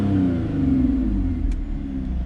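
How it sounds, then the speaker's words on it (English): An Audi A6 3.0T V6 engine revs with a deep, rumbling exhaust note, steady and fairly loud, rising and settling slightly, with no voices. "I'll give it a few revs here"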